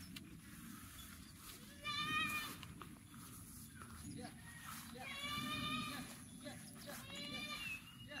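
Goats bleat in short wavering calls, two or three bursts spaced apart, over a steady outdoor rustle with a person talking quietly under them.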